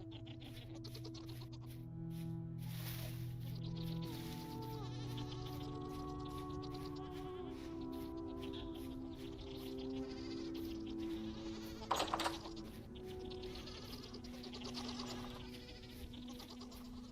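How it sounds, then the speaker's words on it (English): Goats bleat repeatedly in a farm setting, overlapping drawn-out calls rising and falling across the whole stretch, fairly faint and steady with a short clatter midway and no speech. "Goats are escaping containment."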